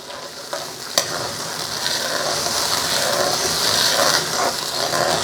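Black bean sauce with light soy sauce stir-fried in a wok, a steady sizzle with scraping and stirring clatter, a sharp metallic knock near the start, building slightly louder.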